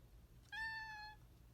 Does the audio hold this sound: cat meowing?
yes